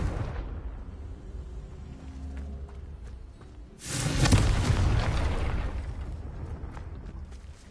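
Confringo fire spell blast in the Hogwarts Legacy video game, a rumbling game soundscape that breaks into a heavy booming explosion roughly halfway through, its deep roar then slowly fading.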